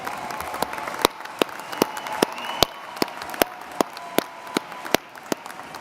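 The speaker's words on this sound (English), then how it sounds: "let's give a round of applause for your family members." Commencement ceremony audience applauding family members, steady crowd clapping with several sharp, louder individual claps standing out at regular intervals, close and continuous throughout.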